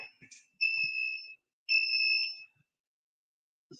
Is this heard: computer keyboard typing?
no